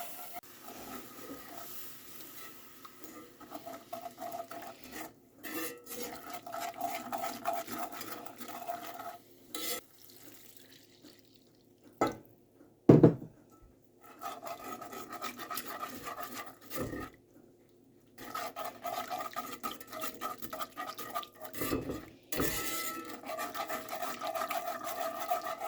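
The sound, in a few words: whisking broth into flour-coated vegetables in a pot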